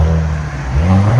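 A straight-piped Cadillac CT5-V revs hard nearby, its loud, steady engine drone broken by a brief exhaust pop.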